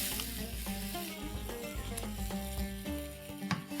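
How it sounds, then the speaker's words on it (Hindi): Mutton boti masala sizzles and fries steadily in a pan, a continuous close hiss with occasional soft stirring clinks throughout. "इसे आपको 5 मिनट तक भूनना है।"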